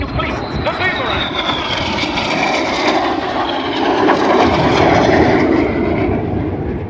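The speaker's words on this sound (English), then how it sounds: "Each aircraft turning hard against each other." Red Arrows jets turning hard against each other during an air show display, a loud sustained roar of engines overhead with a live commentator speaking over it throughout.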